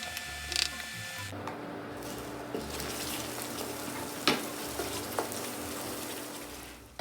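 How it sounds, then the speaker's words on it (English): Melting sugar in a saucepan on an induction cooktop gives a soft, steady sizzle as it is stirred, with a few faint scrapes and clicks of the utensil against the pan. "Once your sugar starts to melt, constantly stir until it's all melted and becomes a deep brown color."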